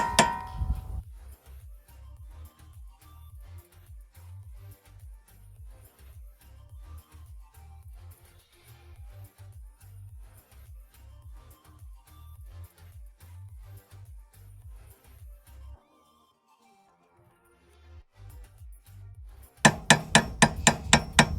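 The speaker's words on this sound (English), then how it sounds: "I'm gonna take this Phillips flathead screwdriver and try to get behind this dust cap" Metal tapping and knocking as a Phillips flathead screwdriver is driven behind a dust cap on a Mazda 6 during a Ford Focus swap; it gives a long run of rapid light taps, a pause, then a burst of louder sharp clanks.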